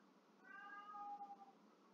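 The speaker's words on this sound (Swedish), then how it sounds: "nu börjar min katt mjaua där borta" A cat meows softly across the room, a thin drawn-out cry wavering through faint background hiss.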